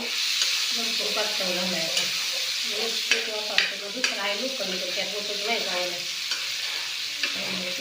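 Vegetables fry and sizzle on a hot iron tava while being stirred and scraped, a continuous crackle broken by sharp utensil clicks, with voices talking nearby.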